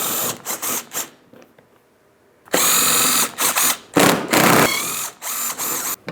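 Power tool bursts spinning out 10mm bolts on the shield of a 2015-2025 Ford Transit 250, several short whirring runs separated by pauses, close and loud with a ratcheting edge.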